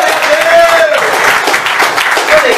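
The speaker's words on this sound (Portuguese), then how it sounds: "Aplauda, aplauda," A church congregation in Alto Vera Cruz, Belo Horizonte claps together under a loud voice, the applause dense and continuous while a sustained tone runs through the noise.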